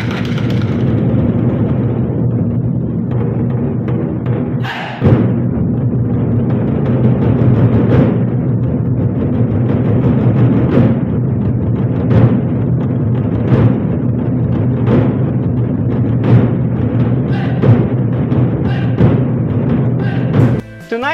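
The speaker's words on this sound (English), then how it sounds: "a diverse percussion group that blends drumming, physical movements, and theatrical elements to craft a unique and captivating sensory experience" A percussion group performing live in an opera house in Johor Bahru, playing loud, sustained ensemble drumming with repeated sharp accented hits and a big crash partway through.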